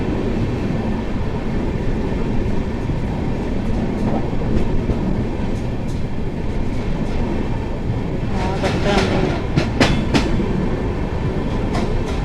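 The Samta Express rolls slowly through a station without stopping, a steady loud rumble of train wheels on rails heard from on board, with rhythmic clacks over joints toward the end and faint voices in the background.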